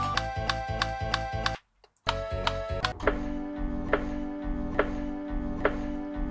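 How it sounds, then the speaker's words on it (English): Rhythmic chopping knocks over a bouncy, playful music loop, cutting out briefly before a second musical section resumes with the steady chopping beat. "I took a chopping noise with some of that funny chef music under it."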